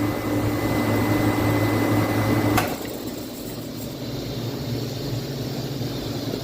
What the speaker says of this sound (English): there's an internal leak on this compressor